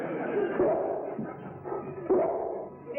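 A dog barks and whimpers close by in a few short bursts, with broadband room noise filling the gaps between yips.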